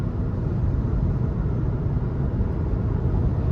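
Inside a 2023 Nissan Versa SV with a 1.6-litre four-cylinder while driving, a low, steady rumble of wind and road noise fills the cabin, soft and even with no voices.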